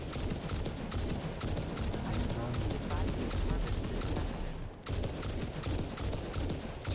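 Dense, rapid gunfire from the factory-building game Satisfactory, with loud bursts of shots in a continuous rattling stream that breaks off briefly near the end before resuming.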